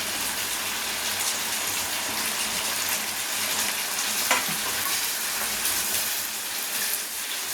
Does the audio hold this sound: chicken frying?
yes